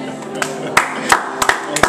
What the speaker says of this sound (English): So I snap my fingers.